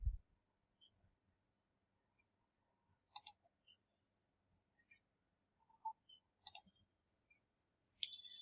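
A computer mouse clicks a few times, faint and crisp, in isolated single and paired taps against near silence.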